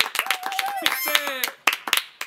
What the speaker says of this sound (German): bekommt sie jetzt einen großen Applaus